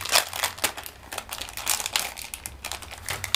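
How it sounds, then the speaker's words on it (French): Plastic packaging for scrapbooking supplies crinkles and crackles as it is opened, a steady run of close, dry rustling bursts with no voices. "désolé pour les bruits de plastique encore."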